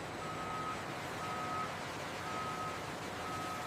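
A truck at a soap factory backs up, its reversing alarm sounding a steady series of evenly spaced high beeps over a constant low industrial hum.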